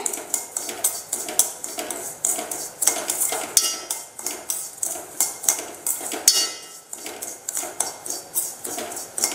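Semolina (rava) roasting in ghee in a pan, with a spoon scraping and clinking against the metal in a fast, steady stirring rhythm, loud and close.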